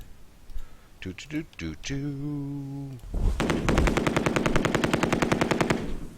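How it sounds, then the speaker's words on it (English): A medium machine gun fires in a tank video game, loosing a long, rapid, continuous rattling burst after a short stretch of talk. "Medium machine gun took a shot at us."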